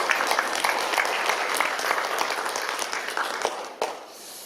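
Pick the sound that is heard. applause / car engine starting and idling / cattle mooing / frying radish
applause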